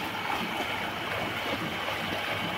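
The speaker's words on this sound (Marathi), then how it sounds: "धबधबा तयार झालाय बघा." Heavy nighttime floodwater after torrential rain pouring over the ground like a waterfall, a loud dense unbroken roar of rushing water close by.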